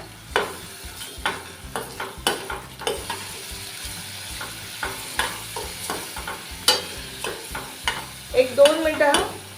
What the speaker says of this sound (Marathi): मी आलं लसूण पेस्ट ही परतवून घेतली आहे